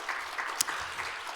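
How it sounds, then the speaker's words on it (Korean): Brief burst of applause from a church congregation, a short ripple of clapping with one sharp louder clap near the middle. "우리 하나님께 큰 박수 한번 영광을 돌립시다."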